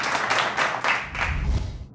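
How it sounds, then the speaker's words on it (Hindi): Audience applause rises warmly after a television program guest is thanked, a dense, steady wash of many hands clapping together for a couple of seconds before starting to fade. "बहुत सारी तालियां भाई।"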